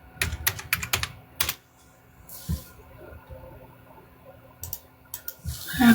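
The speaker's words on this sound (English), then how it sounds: "Oh, I gotta type in the..." A computer keyboard is typed on in scattered bursts of sharp, close clicks with quiet gaps between them, plus a few soft rustles.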